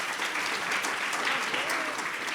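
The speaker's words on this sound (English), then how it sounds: "Please give this panel a round of applause" Audience clapping for a panel at a food-as-medicine summit, a steady wash of hands filling the room for a couple of seconds without letting up.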